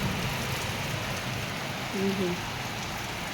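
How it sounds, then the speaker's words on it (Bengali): Heavy rain pours outside a home during a thunderstorm, a dense and continuous hiss of drops on surfaces heard from indoors, with a brief faint tonal sound midway. "প্রচণ্ড বৃষ্টি হচ্ছে।"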